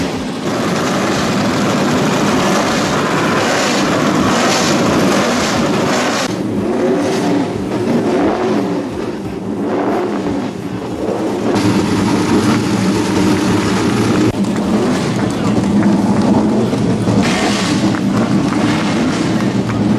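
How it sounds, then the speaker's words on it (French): Several racing car engines rev and roar loudly and continuously at Goodwood, rising and falling in pitch as they accelerate, with no voices present. "Alors les moteurs commencent à chauffer,"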